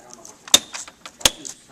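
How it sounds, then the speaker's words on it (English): A laptop replacement keyboard being pressed into its case, two sharp plastic snaps close up with light handling rustle and clicks around them. "Now placing the keyboard, there's a snap on the left,"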